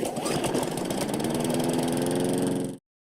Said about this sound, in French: ou une tondeuse à gazon.